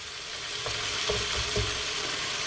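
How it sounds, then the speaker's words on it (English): Sliced onions fry in a pan on medium-high heat, a dense, even sizzle filling the clip, with a few soft stirring knocks and scrapes underneath. "I'm going to add 2 cups of sliced onions. I have the heat on medium-high."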